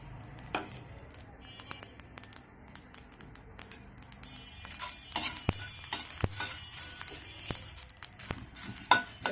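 Chillies and spices stirred in a pan for a pickle of sour-spicy-sweet elephant apple, with scattered scraping taps of a utensil against the pan over a low background, growing busier toward the end.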